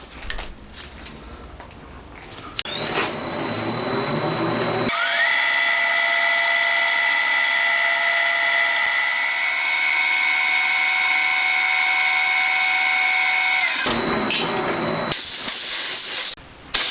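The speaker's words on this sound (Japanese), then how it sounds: "角度変えながら同じようにどんどん削っていきます" A cutter reshapes a motorcycle valve seat in a homemade DOHC cylinder head. It gives a steady, loud, high-pitched whine that lasts about nine seconds, framed by quieter scraping and handling noise before and after.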